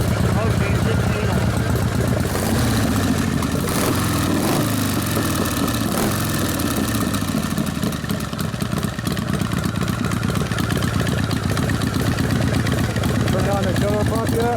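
A rebuilt 1979 Harley-Davidson Shovelhead 80 ci motorcycle engine idles steadily and loudly up close during carburetor adjustment, its lumpy rumble continuous under people talking nearby.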